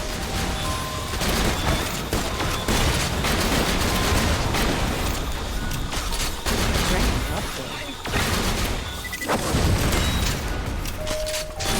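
Rapid gunfire and explosions while shooting enemies in the video game Borderlands: The Pre-Sequel, The Handsome Collection's Claptastic Voyage add-on, with dense overlapping bursts that continue almost without pause and loud, chaotic impacts throughout.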